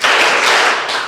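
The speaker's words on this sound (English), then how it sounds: "Okay, 2 power claps." An awards assembly audience claps together in unison, producing a loud, dense burst of hand-clapping that fills the whole moment with no pause between strikes.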